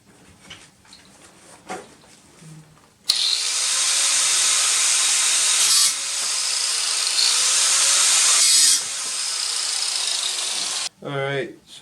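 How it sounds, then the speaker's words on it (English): An angle grinder cuts brass rod with a loud, sustained high-pitched screech that runs for about eight seconds, dips briefly in the middle, then stops. Quiet handling noises come before it and a short whir follows. "cut this out with the angle grinder"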